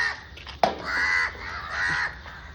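A crow caws repeatedly while being fed, its harsh calls close and clear, with a sharp knock near the start and no talking.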